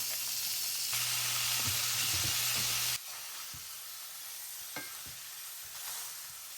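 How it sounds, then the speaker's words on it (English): Ground hamburger meat fries with onions in a pan, giving a loud, steady sizzle that quiets partway through, with occasional scraping stirs. "I'm going to go ahead and put my hamburger in now."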